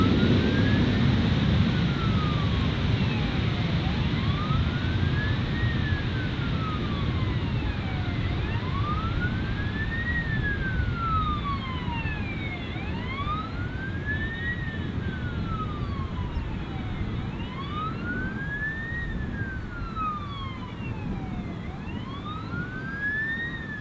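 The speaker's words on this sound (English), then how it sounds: "I'm starting to think that those sirens aren't actually part of the airport." Emergency vehicle sirens near Gold Coast Airport wail in steady rising and falling cycles for the whole stretch, moderately loud and somewhat distant, over a constant low rumble of outdoor background noise.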